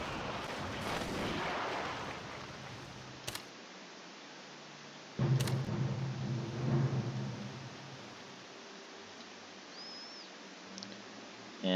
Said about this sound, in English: And we're just going to keep getting bombed